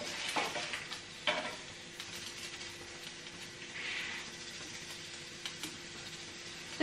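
Green and red chillies frying in a pan give a low, steady sizzle with a few sharper scrapes and taps of a spoon, fairly quiet and close.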